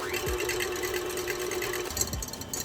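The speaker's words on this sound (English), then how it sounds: "This is 2 egg whites that we're gonna whisk." An electric mixer whisks two egg whites for a sugar-free keto tiramisu, giving a steady, close motor whine with faint rattling of beaters against the bowl.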